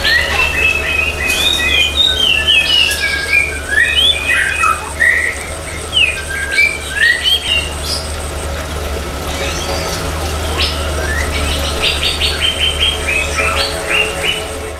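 Small birds in an aviary cage on an afternoon sing in bright, rapid chirps and whistled trills that come in clustered bursts, with a low, steady background hum throughout.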